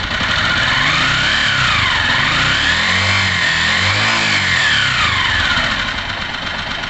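A 2002 Honda CG Titan 125 KS motorcycle engine, under repair for a crankshaft pulse sensor fault, revs up and down in repeated swells, loud and close, with no talking.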